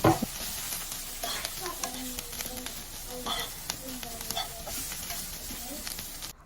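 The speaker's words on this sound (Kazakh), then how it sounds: "үстіне ұсақтап тұрған сәбізімізді бір 10 минуттай қуыратын боламыз" Vegetables sizzle in a hot pan while a utensil stirs and scrapes, close up, with a voice speaking intermittently.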